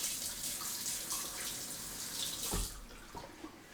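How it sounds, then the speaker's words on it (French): Running tap water splashes steadily into a sink while kitchen knives are rinsed for a rougail saucisse, the flow breaking up near the end into a few clatters and drips. "j'ai rincé les couteaux"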